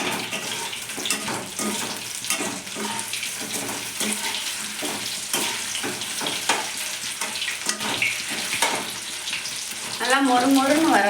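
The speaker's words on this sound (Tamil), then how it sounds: "கடாய் வச்சு எண்ணெய் ஊற்றி எண்ணெயும் காஞ்சிச்சு நம்ம போட்டு எடுத்துடலாம்." Raw plantain slices frying in hot oil in a kadai, a continuous soft crackling sizzle with scattered pops and clinks, louder toward the end, with a voice speaking faintly at times.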